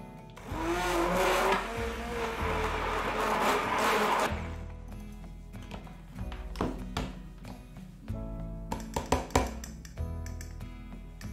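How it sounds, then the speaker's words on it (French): A blender whirs loudly through lime and coconut cream with unsalted butter in a tall container, running steadily for about four seconds before stopping, followed by scattered taps and clatters of utensils. "Mettez le crémeux dans un récipient haut et ajoutez 50 g de beurre doux avant de mixer."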